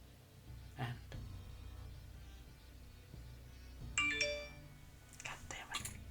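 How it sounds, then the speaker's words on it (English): A phone rings faintly, giving a short tonal ringtone chime midway against quiet room noise. "Sorry, my phone's ringing."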